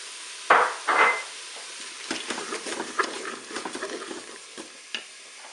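Onions tipped into a hot Cookeo multicooker pressure cooker as a pot-au-feu gets started, giving two sharp bursts of sizzling followed by quieter crackling and stirring scrapes, close by with no voices.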